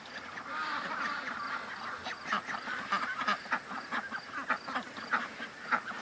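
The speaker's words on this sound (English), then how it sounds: "I look up and I see all the ducks coming back, and Doug is going down to the far right" Several ducks quack repeatedly as they return to a farmyard, with bursts of calls overlapping in an irregular rhythm over steady outdoor background noise, fairly near and moderately loud.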